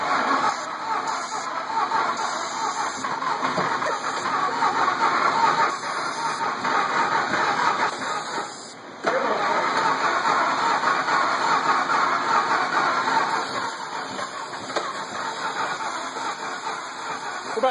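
An engine that threw a rod is cranked over with ether, giving a steady, dense mechanical whir and churn that continues for the whole span with a brief dip midway, close and loud.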